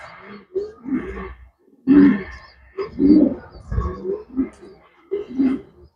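Racer pigeons give deep, throaty coos very close by, in a series of short rumbling bursts separated by brief pauses.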